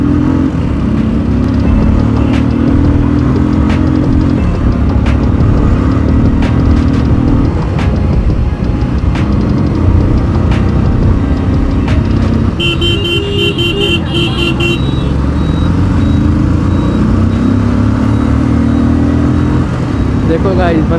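A Hunter 350 and a Classic motorcycle race on a Sunday group ride, their engines droning loud and close throughout with revving swells and a horn tooting briefly midway.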